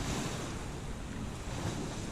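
Wind-driven sea spray in a squall aboard the sailing boat Cachalot off Ninety Mile Beach, blowing around 25 to 30 knots: a continuous loud roar of gusting wind and rushing water with no voices.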